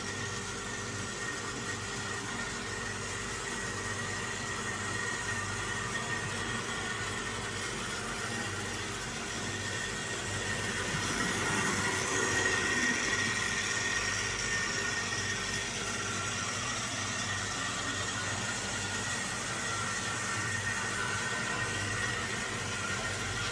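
A repaired Hornby Bulleid Squadron model locomotive runs on track with a continuous whirring hum. It swells a little louder midway, then settles back to an even drone, with no voices over it.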